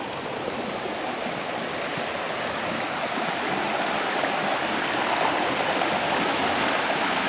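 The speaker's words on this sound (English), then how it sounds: "You can see the little creeks are filled up pretty good here too." A small forest creek swollen by rain rushes steadily near Cascade Falls in Mill Valley, Northern California, a continuous broadband wash of flowing water that swells slightly louder toward the end, with no voices.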